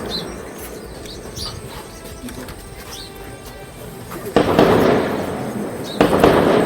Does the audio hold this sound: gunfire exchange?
yes